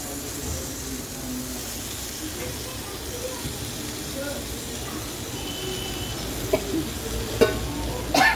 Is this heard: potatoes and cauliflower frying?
yes